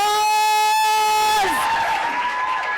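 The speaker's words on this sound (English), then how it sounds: "Give him a round of applause." A summit audience applauds a speaker at a design thinking session. A sustained electronic tone cuts off partway through, and a broad wash of clapping and crowd noise follows.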